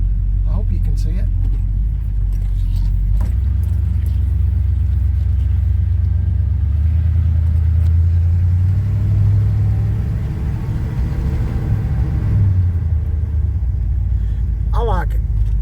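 A 1978 Chevy C10 pickup drives slowly at low speed, its engine giving a steady deep rumble with road noise heard from inside the cab, and someone talks over it now and then.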